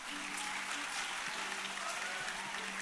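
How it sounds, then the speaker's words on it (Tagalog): A church congregation claps together during a worship service, a steady dense wash of applause filling the space without a break for about three seconds. "The best clap offering to our Lord Jesus."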